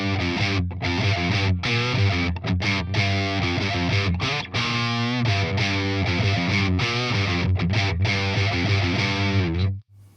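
Heavily distorted electric guitar played through a Fortin Killer Kali preamp on its third, most saturated channel, loud sustained chords and riffs with short gaps, ringing alone and cutting off at the end.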